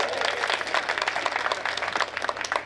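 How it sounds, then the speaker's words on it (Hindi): A crowd at a comic poetry gathering claps in dense, steady applause through the whole stretch, loud and close. "थोड़ा सा तालियों का उत्सव करिएगा"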